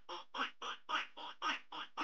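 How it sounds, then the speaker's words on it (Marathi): Cartoon duck quacking for a farm animals lesson: a steady series of eight evenly spaced, nasal quacks, close and clear with no talk. "म्हणजे बदक."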